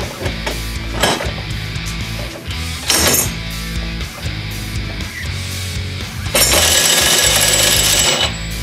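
A Ryobi extended reach electric ratchet wrench whirs and rattles in loud bursts, straining and clicking as it works to break a tight bolt loose, with a longer final run near the end.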